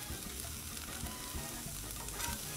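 Onions and bell peppers sizzle on a 22-inch Blackstone griddle for Mexican chicken tacos, a soft, even hiss from close by with no talking.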